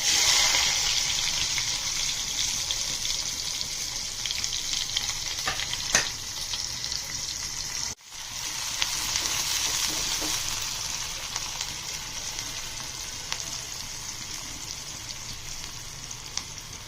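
Onions fry in hot oil for a Karnataka-style masala moong dal. A steady, close sizzle runs continuously, with a brief dip partway through and occasional faint stirring.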